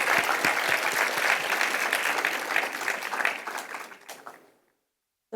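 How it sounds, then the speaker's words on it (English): An audience at a talk with a filmmaker applauds, a dense wash of clapping that holds for several seconds, then thins and dies away into silence. "I'm going to applaud you then."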